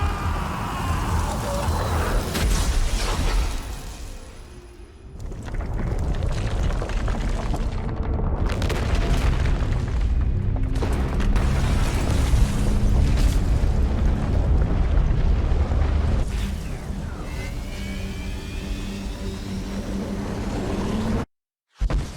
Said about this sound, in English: we just saw the explosion